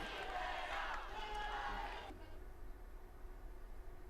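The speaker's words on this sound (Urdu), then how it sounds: "استنبول میں مظاہرین نے اسرائیلی قونصل خانے کے باہر نعرے بازی کی۔" A distant protest crowd outside the Israeli consulate in Istanbul shouts slogans together in a chant that swells for a couple of seconds and then drops away to a low murmur.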